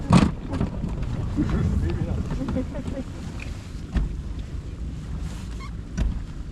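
Outboard motor of a Zodiac inflatable boat drives through growlers and bergy bits of ice in Hill Bay, Antarctica, a steady rumbling drone mixed with heavy wind buffeting and occasional knocks, with voices faintly in the background.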